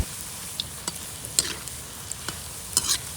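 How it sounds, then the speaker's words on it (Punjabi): Pakoras frying in hot oil for Punjabi kadi, a steady close sizzle with sharp crackles and pops breaking out irregularly. "ਪਕੌੜੇ ਆਪਣੇ ਪੱਕਣੇ ਸ਼ੁਰੂ ਹੋ ਗਏ ਤੇਲ ਨਾਲ ਐਨ ਚੰਗੀ ਤਰ੍ਹਾਂ ਰਿੱਝ ਗਿਆ ਤਾਂ ਗਰਮ ਹੋ ਗਿਆ"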